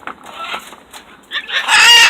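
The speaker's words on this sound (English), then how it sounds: "Because the birds are screaming." Chickens cluck and squawk among a family's backyard birds, with short bursts of clucking early on building to a loud, close flurry of squawking at the end.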